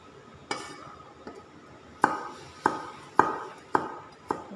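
A knife chops bamboo shoots and pork on a board in a home kitchen: five or six sharp, evenly spaced strikes, close and loud against quiet background, with no talk.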